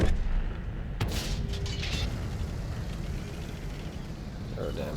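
A tank cannon firing in the World of Tanks video game, one sharp, loud boom with a rumbling tail over steady engine drone, with a voice speaking over it.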